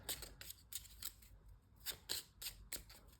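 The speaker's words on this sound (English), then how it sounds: "Let me reshuffle the cards real quick." A deck of cards for a solitaire board wargame is shuffled by hand, giving a series of quick riffling, snapping bursts in an irregular rhythm, close up and fairly quiet, with no talking.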